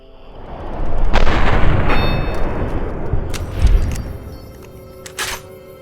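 Heavy video game gunfire booms close by, a rumbling blast followed by a second shot and a fainter crack, with ringing sharp transients between.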